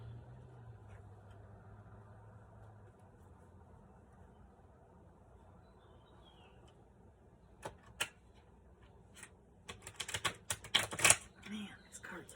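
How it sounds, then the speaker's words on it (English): Tarot cards shuffle in a cluster of quick, sharp riffling clicks near the end, after a long quiet stretch with a low hum at the start. "Man, these cards are hard to shuffle."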